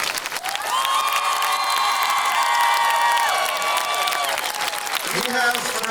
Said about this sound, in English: so if you could give them a round of applause